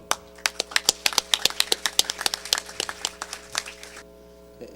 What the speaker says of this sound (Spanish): Lo recibimos con un voto de aplauso